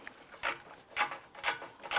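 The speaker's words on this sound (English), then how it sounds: "go ahead and use your ratchet" A ratchet snugging the front grille bolts on a 2005-2007 Ford Five Hundred, with four evenly spaced clicking strokes about half a second apart, close and clear with no talking.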